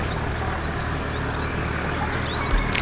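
A cicada in a Thai jungle drones as a steady high-pitched buzz that holds unbroken and fairly loud throughout, with a faint rustle near the end.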